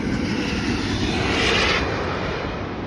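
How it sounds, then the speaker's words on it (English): A Virgin Atlantic Airbus A350 passes at Heathrow Airport with a loud, broad engine roar that swells to a peak midway and then slowly fades, with no voices. "That is a Virgin A350, beautiful aircraft, very graceful"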